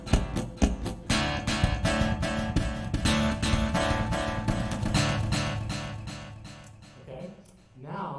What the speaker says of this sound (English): you're going to get a little bit of a faster echo. It's called a dotted eighth note delay.